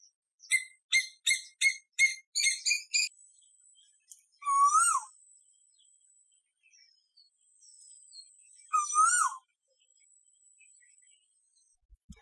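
An Asian koel calls in clear, repeated bursts: a quick series of rising whistled notes, then two louder rising calls separated by quiet pauses, with faint background bird whistles.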